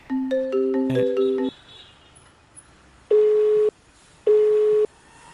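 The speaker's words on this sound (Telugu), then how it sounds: "రింగ్ అవుతుంది" A quick run of telephone dialing beeps, then two long, evenly spaced ringback tones with quiet pauses between them, the call going unanswered.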